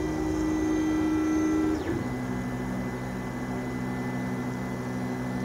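A 3D printer fitted with a combined filament runout and tangle sensor hums steadily with a motor whine, then a brief shift and a falling sweep as it finishes purging and goes back to printing, with a lower drone continuing afterward.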